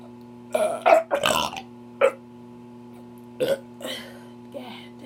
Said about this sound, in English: That burp just came out like I was gonna throw up.